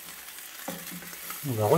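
A cheese preparation fries in a pan, a soft sizzle and stirring scrape that swell into a louder crackle near the end, with a brief spoken phrase over it.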